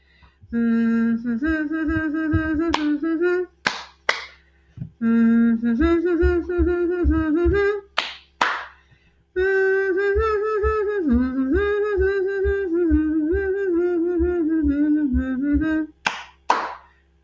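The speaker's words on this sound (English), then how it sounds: "What was I doing with my hands? I was clapping, that's right." A person hums a simple sung melody in repeated phrases while clapping a steady hand pattern, sharp claps falling between and alongside the humming, close and loud.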